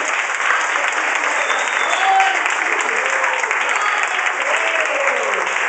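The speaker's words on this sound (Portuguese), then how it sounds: "Vamos aplaudir bem forte." A church audience applauds loudly after a Christmas play, dense steady clapping from a large crowd filling the room, with a few faint voices rising under it.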